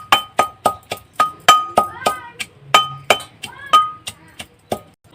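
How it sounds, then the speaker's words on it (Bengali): Garlic and green chillies are pounded for a gram-flour pakora batter, giving a quick steady run of about fourteen sharp, close knocks with a clinking ring, evenly spaced. "তো রসুন আর কাঁচা লঙ্কা একটু থেতো করে নেব।"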